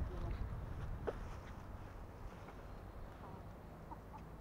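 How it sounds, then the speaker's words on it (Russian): Fat chickens clucking faintly and scratching outdoors near a forest in Ukraine, soft scattered clucks over a low rumbling wind background. "Куры такие жирные, роются."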